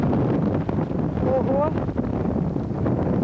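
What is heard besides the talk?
strong wind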